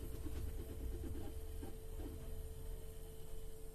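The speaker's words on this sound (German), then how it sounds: "das, was ihr jetzt hört, ist wahrscheinlich die Waschmaschine." A washing machine runs somewhere in the background, a steady low droning hum with a faint constant tone and soft mechanical churning, unbroken and quiet, with no talking.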